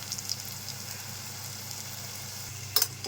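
Onions frying in a pan on a home stove for a vegetable curry, a steady soft sizzle with a brief clatter near the end, no talking.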